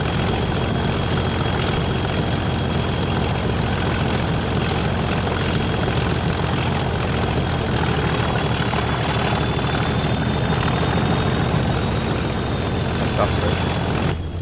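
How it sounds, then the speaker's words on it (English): Class 37 diesel locomotive in Train Simulator 2020 with a deep, throaty engine drone that runs steadily and loudly throughout, with a thin high whine rising and falling faintly above it. "I just love that throaty noise. The amps change when basically it's the loco making the use of the power at higher speed"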